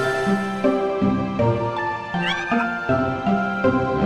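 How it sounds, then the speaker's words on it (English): Repeated meows from a Neko Cat dream eater in the Kingdom Hearts Dream Drop Distance video game, loud and regular over a musical backing. "Alright, there's the Neko Cat."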